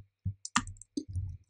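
A few sharp, quiet clicks of typing on a computer keyboard during R coding work, arriving in short irregular bursts with brief pauses and no talk.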